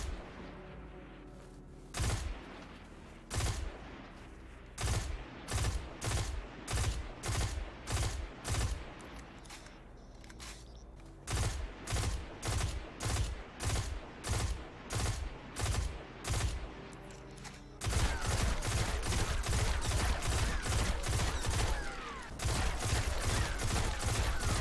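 Rapid bursts of gunfire from the SUROS PDX 45 rifle in a video game, loud and close, come in repeated evenly spaced volleys that give way to a sustained stream of shots near the end.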